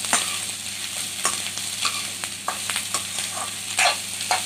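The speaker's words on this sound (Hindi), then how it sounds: "इसको 2 मिनट तक फ्राई करेंगे।" Onion sizzles in a pan while being stirred, part of cooking a banana kofta dish. Close, irregular scraping and clattering utensil strokes sit over a continuous frying hiss.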